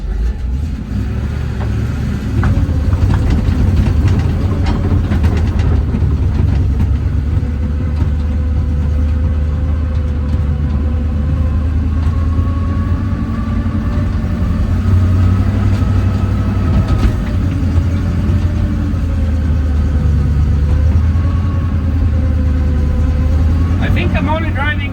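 Old military truck driving with its engine running, a loud steady low rumble and drone throughout, close up, with speech over it.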